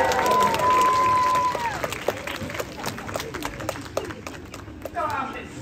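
An audience at a safari park show claps and cheers, loud bursts at first that thin into scattered applause, with a whistle and voices mixed in.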